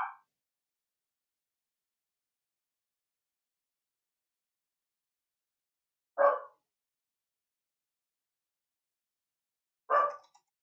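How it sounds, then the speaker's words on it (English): A household dog barks three times during an esports playoff match: short, sharp, fairly loud barks widely spaced several seconds apart, with near silence between them and no talking. "my dog's decided to bark."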